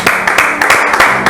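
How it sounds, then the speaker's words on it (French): Loud audience applause welcoming a guest onto a French-language talk show: near, crowded clapping that swells in rhythmic bursts about every third of a second. "applaudissements"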